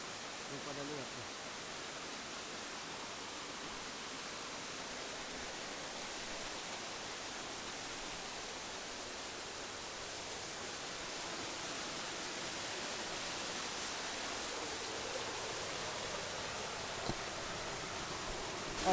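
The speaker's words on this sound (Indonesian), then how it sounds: "sekarang saya lagi ada di air terjun Sampuran Api itu" Sampuran Napitu waterfall in West Sumatra, a faint, steady hiss of falling water heard from a distance, continuous throughout with no voices.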